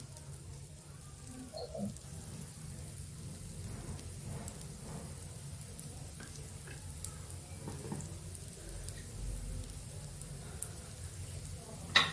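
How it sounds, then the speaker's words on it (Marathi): Dosa frying in oil on a hot griddle for a crispy dosa, giving a steady close sizzle and crackle throughout with a few small pops and a brief louder knock near the end. "मी डोशाच्या आजूबाजूला पूर्ण तेल टाकून घेतलं"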